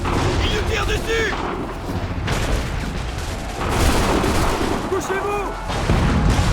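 Battle gunfire and artillery in Assassin's Creed 3 at the Battle of Bunker Hill, a continuous roar of distant booms and shots under shouting voices throughout.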